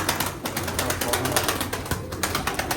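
A flock of pigeons kept by a bird fancier flutters and shuffles close by, with a continuous, busy mix of flapping wings, rattling movement and soft cooing.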